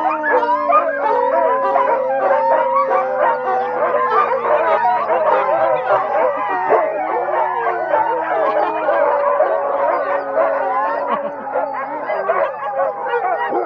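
A chorus of sled dogs in Alaska howls and yips together in a loud, continuous, overlapping din, with barks scattered through the wailing.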